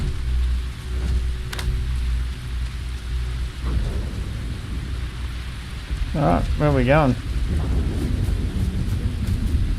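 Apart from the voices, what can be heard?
rain and thunder in video game Space Cops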